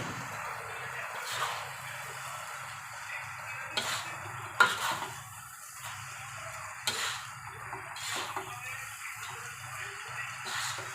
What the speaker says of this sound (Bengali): এবার ভালোভাবে মশলা দিয়ে চাউমিনের সাথে মিশে যাবে।